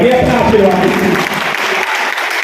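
A crowd at a Hindi patriotic poetry recital for a Hindu new-year festival claps in a loud, close burst that fills the whole moment and then tapers slightly.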